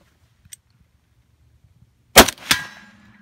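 A rifle fitted with a KNS Precision adjustable gas piston fires once, giving a loud, sharp crack up close. A second sharp metallic impact follows a moment later, then quiet fading.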